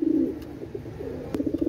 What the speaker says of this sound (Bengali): কবুতরগুলো দেখেন ভাই